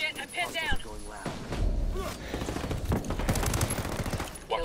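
Rapid automatic gunfire bursts in the video game Ghost Recon Wildlands, loud and close, with tonal game audio and voices mixed in over the shooting.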